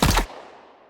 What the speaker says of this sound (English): One of the things I wanted to tackle for this project was gunfire sounds.